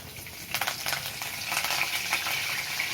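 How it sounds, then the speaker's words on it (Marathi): Curry leaves hitting hot oil in a pan, giving a close, steady crackling sizzle with a burst of sharper spattering pops near the start, no voices. "आता आपण याच्यामध्ये थोडंसं कढीपत्ता टाकणार आहोत."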